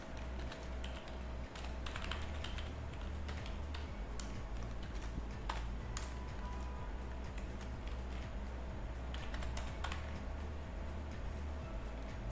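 Computer keyboard typing, a steady stream of quiet rapid key clicks with brief pauses, close up and without talk.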